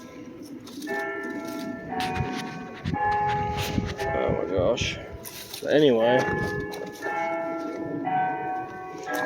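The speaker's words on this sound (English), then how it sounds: "the bell's going off." A bell ringing near a creek, clear tonal strikes with lingering ringing partials repeating across the stretch, heard under a person talking.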